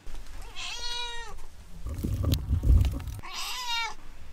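Two clear cat meows, each a drawn-out harmonic cry near the start and again at the end, with a burst of low rumbling handling noise in between.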